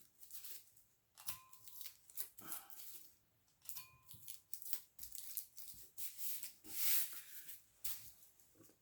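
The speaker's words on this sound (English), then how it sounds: "I'm going to tape off the tip of the bat" Tape is pulled and wrapped around the tip of a piñata stick, giving quiet, close tearing and crinkling bursts at an uneven pace.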